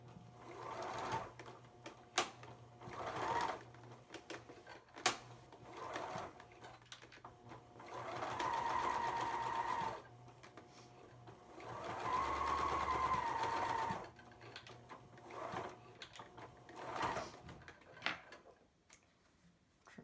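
A sewing machine stitching a cloth face mask runs in short bursts with longer whirring runs, separated by clicks and handling noises at close range.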